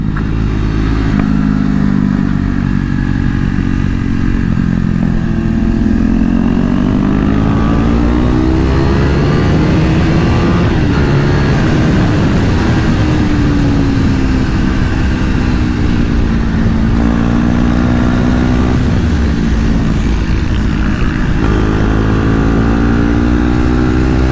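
Motorcycles, including KTM Duke machines, race around a track, with a loud, continuous engine drone that rises and falls in pitch through repeated revving and gear changes for the whole stretch.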